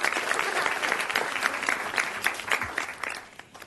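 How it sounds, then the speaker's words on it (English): A school event audience applauds students and families with loud, close, dense clapping that holds steady and then starts to fade near the end. "If you can wave, and we'll give you a round of applause"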